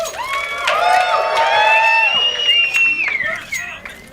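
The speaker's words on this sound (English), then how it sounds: "Okay, then the crowd is hyped." A crowd cheers and roars at a Counter-Strike esports match at the Gfinity 2015 Spring Masters, loud and sustained with whistles, heard up close over a bright, rising din.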